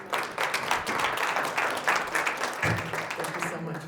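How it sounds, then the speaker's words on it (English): Audience applause after an opening keynote at the DFWAE 2025 conference, a steady dense wash of clapping lasting several seconds with voices and cheers mixed in. "Give him another round of applause."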